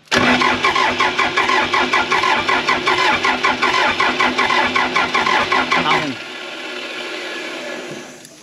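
A Case 450B dozer engine cranks loud and close with a fast, rhythmic chugging for about six seconds, then drops to a quieter, steady whir before fading.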